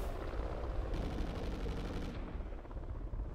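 Sustained automatic gunfire in a first-person shooter video game, fired through a wall, a dense continuous rattle of loud shots filling the whole moment with no pauses and no voices over it.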